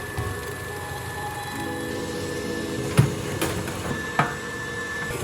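An electric mixer whirs steadily while blending cream cheese into butter for a lemon curd cake frosting, its motor humming close and even, with a few light knocks of the beaters against the bowl.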